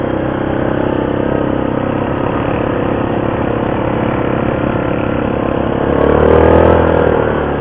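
A Yamaha Grizzly ATV engine idles steadily at close range after a muffler repair, with a throbbing exhaust note that rises briefly near the end.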